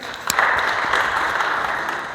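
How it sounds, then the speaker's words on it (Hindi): At a workplace Safety Day program, a crowd breaks into loud applause for an honoured guest, a sudden burst of many hands that swells quickly and holds strong and close for a couple of seconds. "साहब के लिए एक बार जोरदार तालियां।"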